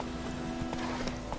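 Horse hooves clip-clop in a quick, steady rhythm as a horse gallops along a road in The Witcher 3, with a constant humming game soundtrack underneath.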